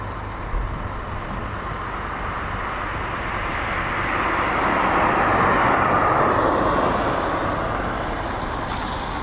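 An aircraft near RAF Coningsby produces a broad, continuous roar that swells gradually to a loud peak mid-way and then eases slightly, with no voices.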